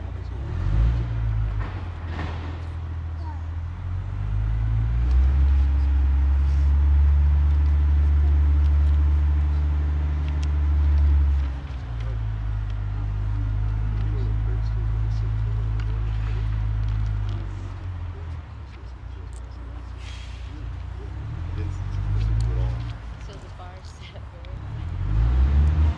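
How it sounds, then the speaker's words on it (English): A dump truck unloads gravel nearby, with a deep rumbling engine that swells and fades in long surges and light rattling on top. People talk intermittently over it. "this dump truck takes down some more gravel."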